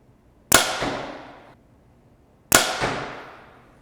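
Two sharp rifle shots fired at scorable hunting targets outdoors, spaced about two seconds apart, each a loud crack followed by a short ringing decay, with no talking.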